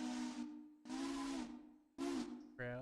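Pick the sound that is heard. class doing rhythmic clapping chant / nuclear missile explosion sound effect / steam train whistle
steam train whistle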